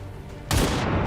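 A single sudden gunshot blast from the turn-based game XCOM 2 bursts in after a quiet lead-in and rolls on with a loud, sustained rumbling tail.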